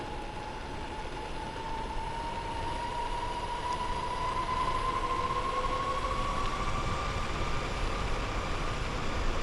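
A DIY electric mountainboard running flat out, giving a steady motor whine that slowly climbs in pitch over constant rumbling wheel and wind noise, close and sustained without speech.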